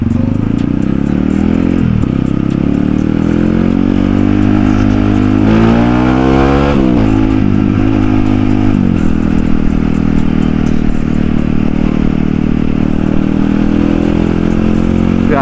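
Motorcycles and cars idle and creep through a congested road in Bekasi, a loud, constant low engine rumble with occasional revving surges and clatter nearby.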